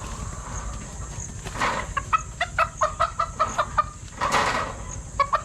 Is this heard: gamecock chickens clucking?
yes